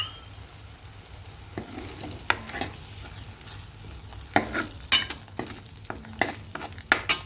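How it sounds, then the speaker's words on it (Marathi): Masala bubbling and frying in a pan over medium heat, a steady low sizzle broken by several sharp stirring scrapes and clinks, close and fairly quiet. "बघू शकता मसाल्याला किती छान तरंग आलेला आहे."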